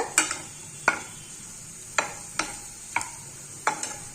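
Egg and potato pieces roasting in oil in a pan, a soft steady sizzle broken by about six sharp spatula clinks and scrapes at irregular intervals, close by.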